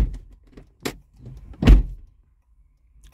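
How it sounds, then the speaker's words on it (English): The driver door of a Hyundai is opened and then shut with a single solid, low thump, preceded by fainter latch and handle clicks nearby, with no talking. "close the driver door."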